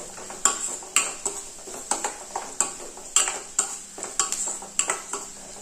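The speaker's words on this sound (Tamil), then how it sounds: "லைட் ப்ரௌன் கலரில் வர வரைக்கும் வதக்கி விட்டுக்கோங்க" Ingredients for drumstick and egg curry are sautéed in a pan: a metal spoon scrapes and clinks against the pan in a regular rhythm of sharp, close strokes over a faint sizzle, with no talking.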